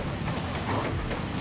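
A ghost train rattling past in the video game Chao Garden: Next Generation: a loud, dense rumbling clatter that fills the short moment without pause.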